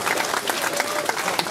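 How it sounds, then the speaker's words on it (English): A roomful of players at a Warmachine and Hordes tabletop gaming event breaks into loud, close, dense applause, the clapping continuous throughout. "give yourselves a collective round of applause for turning up"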